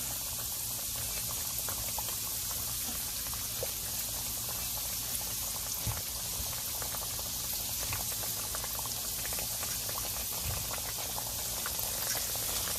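Jamaican fried dumplings cooking in hot oil on a stove, a steady, dense bubbling and crackling hiss that holds evenly throughout at moderate volume, with no voices.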